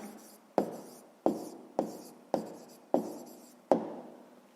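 A pen or pencil writes out the answer to a sixth-grade math exercise, making seven sharp, evenly spaced scratching strokes that are close and faint in an otherwise quiet room.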